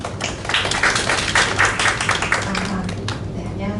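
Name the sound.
audience clapping to welcome a speaker at a forum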